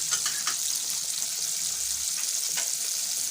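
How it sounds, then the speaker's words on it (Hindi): Crispy masala-coated fish frying in a pan on a low flame gives a steady, close bright sizzle with faint crackling and a couple of soft taps, no talking. "बहुत हमने लो फ्लेम पे इसको रेडी किया है"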